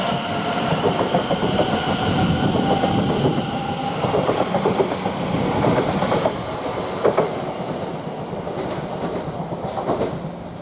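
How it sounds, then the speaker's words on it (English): A train passes through Shenfield railway station, a steady loud rumble of rolling wheels and rail noise with clickety-clack beats that lasts throughout, close by. "And we've got a train come through."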